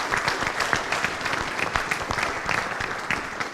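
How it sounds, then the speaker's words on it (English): A crowd at a military community gathering on post applauds a command team with dense, steady clapping that holds at an even level throughout. "If we give them a round of applause, please."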